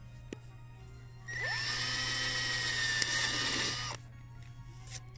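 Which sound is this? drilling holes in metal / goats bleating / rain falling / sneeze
drilling holes in metal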